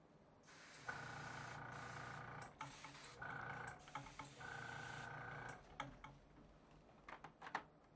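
Aerosol paint sprayed onto a jerkbait fishing lure in bursts of steady hissing, a long spray followed by several shorter passes, then scattered light handling clicks and taps near the end.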